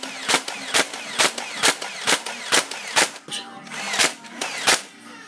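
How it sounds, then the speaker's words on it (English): Video game machine gun firing in a steady rapid rhythm, about ten sharp, loud shots in five seconds with faint background sound between them. "I'm gonna be rapid firing machine gun instead of this."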